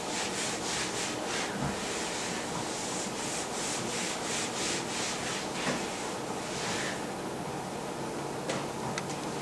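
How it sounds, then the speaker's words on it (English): A clean cloth wiping down a surface, rhythmic rubbing strokes repeating steadily and close up, fairly quiet, with no talking. "Using a clean cloth, wash the surface where you will be setting up your supplies."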